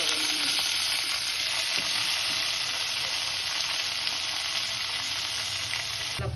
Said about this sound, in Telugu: ఇట్లా ఫ్రై చేస్తే దీంట్లో ఉన్న వాటర్ అంతా పోతుంది.